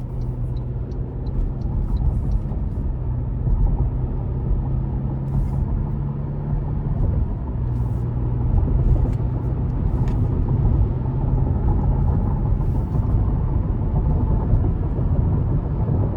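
A 2024 Toyota Tacoma SR with the 2.4-liter turbo four-cylinder cruises on an interstate, giving a steady low road and engine rumble with tire hum, constant and close from inside the cab, no talking.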